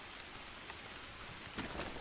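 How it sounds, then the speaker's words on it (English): Rain falls in the survival video game Green Hell, a soft, fairly faint steady hiss of drops with a slight swell toward the end. "Still raining."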